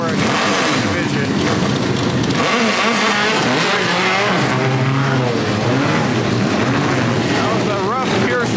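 Compact class stock cars racing in a main event at The Freedom Factory, a loud continuous roar of engines with shifting revs throughout, and someone talking over it.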